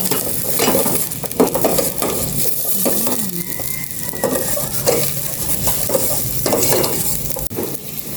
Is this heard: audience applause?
no